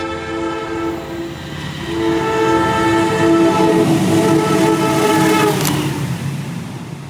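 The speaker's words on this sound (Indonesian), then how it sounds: "barusan aja melintas teman-teman kereta api Mataram menuju ke Solo Balapan" An Indonesian Mataram passenger train bound for Solo Balapan passes close by, its horn sounding in a sustained tonal blast over loud rumbling wheels and rail clatter that swells then fades.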